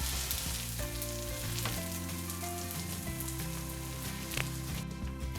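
Korean vegetable cutlets fry in a pan, a steady crackling sizzle with scattered pops, close and continuous, alone without talk.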